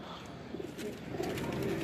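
Paired pigeons on a rooftop coo in soft rolling calls over a dense background murmur, fairly close and continuous for a moment.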